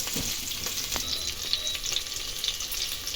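Chopped onions sizzle steadily in a hot pan for jackfruit kurma while a utensil scrapes and taps against it as they are stirred, close by.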